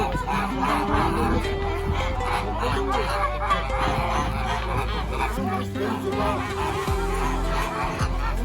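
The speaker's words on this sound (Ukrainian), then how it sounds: "я люблю, коли такі доглянуті гарні птахи" Well-kept geese on a farmstead honk repeatedly through the scene, a steady busy stream of calls over a low constant rumble, with people talking throughout.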